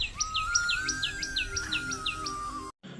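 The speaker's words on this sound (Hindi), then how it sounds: "तब पक्षियों की आवाज़ आ रही थी" Birds call in the early morning, a rapid series of about ten sharp, bright chirps over a thin sustained whistle-like tone and background hum, ending in a brief cut.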